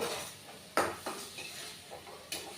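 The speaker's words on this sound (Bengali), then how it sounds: "এবার এটাকে কষাতে হবে, একটু ভালো করে কষাতে হবে।" A spice masala with green chillies being stirred in a pan for a Bengali doi potol, with a few sharp metallic spoon scrapes against the pan over a faint low sizzle, and quiet gaps between strokes.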